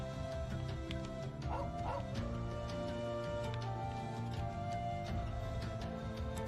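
A dog in a mountain village in Trails of Cold Steel 2 gives a few short yips and barks over a steady bed of game music and ambience.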